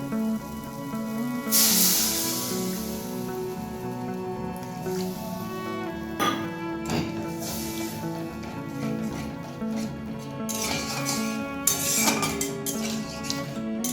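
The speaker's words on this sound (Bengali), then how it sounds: "এবার পরিমাণ মতন জলটা দিয়ে দেবো" Water poured into a pan of frying masala for an egg and okra curry, a loud broad sizzle erupting and surging in bursts over a steady background, with no talk.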